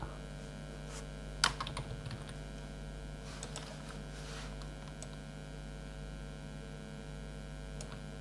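Quiet keystrokes tap on a computer keyboard in a few scattered bursts as a name is typed, over a steady low mains hum.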